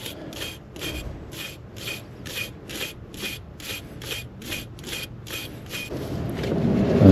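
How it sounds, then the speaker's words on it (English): Quick, even back-and-forth scrubbing strokes from a wire brush cleaning a 2008 Honda Civic brake caliper bracket where the retainer clips sit, a dozen or so close, rasping passes with no talk. "You want to just scrub it along here where the retainer clips meet."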